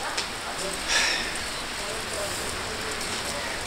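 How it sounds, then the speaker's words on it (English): Light drizzle falling outdoors on a cold day, a soft steady patter of fine drops with one brief louder splash, faint and continuous. "today it's very cold and very rainy"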